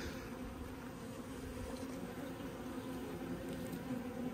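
Wasps buzzing around a beehive, a soft continuous drone with faint rising and falling passes from individual insects, fairly quiet and steady without any talk.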